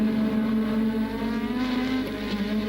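Formula 1 cars from 1986 racing at the French Grand Prix at Le Castellet, with one steady, loud engine note holding its pitch. A second engine rises briefly near the end as cars pass. No one speaks.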